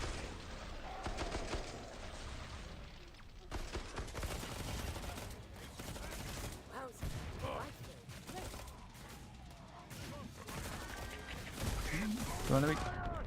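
Repeated heavy shotgun-mode blasts and crunching impacts in the zombie shooter Killing Floor 2, irregular bursts mixed with monster noises and clanks while players talk over the action.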